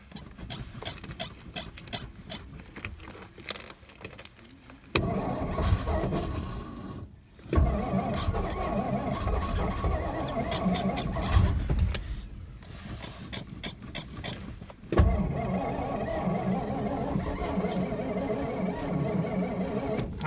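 A 1963 Studebaker Lark two-door's starter cranks on a dying battery, a loud, labored mechanical churning in long bursts with brief pauses between attempts, close and steady, no voices.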